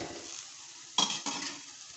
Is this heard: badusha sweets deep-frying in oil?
yes